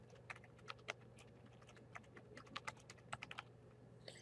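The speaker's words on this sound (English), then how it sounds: "Alright, so type in your name." Rapid typing on a computer keyboard while entering a name during a DOS-era software setup, light clicking keystrokes in irregular bursts, close and quiet with no talking.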